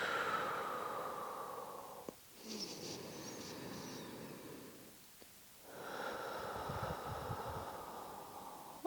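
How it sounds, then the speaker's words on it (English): Slow, deep breaths during yoga breathwork, a long airy inhale and exhale drawn out over several seconds with brief quiet gaps, close and fairly soft, with no talking. "Couple more rounds of breath wherever you're at."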